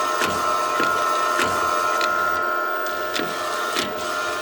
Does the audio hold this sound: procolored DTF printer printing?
yes